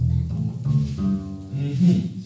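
Four deep bass guitar notes plucked one after another, each stepping higher in pitch, ringing low and full with no talking.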